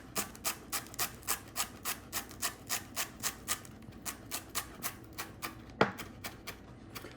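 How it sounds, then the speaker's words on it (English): A knife cuts cilantro stems on a cutting board in a steady rhythm of about twenty even, crisp taps, close and quiet, with one sharper knock near the end and no talking. "We're going to cut the cilantro stems as well."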